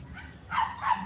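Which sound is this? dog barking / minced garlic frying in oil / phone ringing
dog barking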